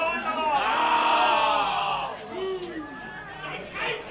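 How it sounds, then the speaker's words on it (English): A country football crowd at Willaston Oval jeers an umpires' decision in a local Willaston versus Tanunda match, with a loud swell of booing and shouting that fades, then scattered calls rise again. "The crowd most displeased by that."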